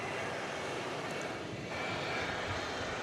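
A fixed-wing aircraft taxiing at night at DFW airport, its engines a steady, fairly distant drone holding evenly throughout.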